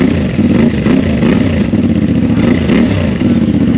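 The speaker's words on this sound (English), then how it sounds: "Cranking it up for the first time. The exhaust sounds pretty good" A CFMOTO 450MT adventure motorcycle with a twin exhaust idles and blips its engine, a close, loud, pulsing parallel-twin throb with rhythmic rev bursts and no talking.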